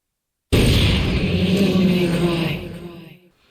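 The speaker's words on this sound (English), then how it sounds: "get hit with the first scare, a sudden gunshot" A sudden loud blast on the Devil May Cry title screen erupts from silence into a sustained booming roar that decays slowly over about three seconds.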